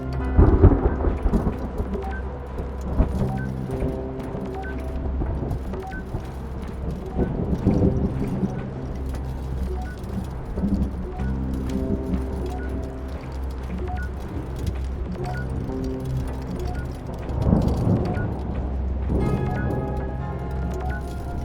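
Thunderstorm in the game Return to Grace: a deep, steady low rumble of wind and rain, with heavier thunder swells near the start and toward the end, under faint tonal music.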